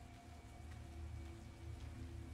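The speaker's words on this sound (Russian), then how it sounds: "Вот и дождь пошел" Steady rain patters on surfaces in the Resident Evil: Revelations 2 game world, a soft continuous wash with a low droning ambience beneath and no voices.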